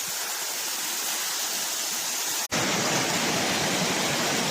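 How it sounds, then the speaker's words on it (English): Cascades on Coldale Beck rush in a steady, dense hiss of falling water, close and loud, broken by a brief cut midway before the roar resumes, with no voices. "Beautiful waterfall."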